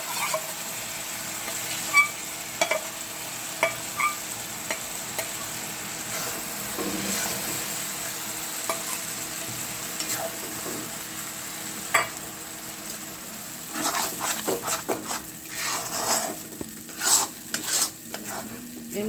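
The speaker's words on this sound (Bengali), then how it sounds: "এর মধ্যে যেটুকু জল আছে পুরোটা ভালো করে নাড়াচাড়া করে জলটাকে শুকিয়ে নেব" Mung dal paste with pointed gourd and ridge gourd being stirred in a hot pan, a soft continuous sizzle broken by scraping spatula strokes that grow busier and clattering toward the end.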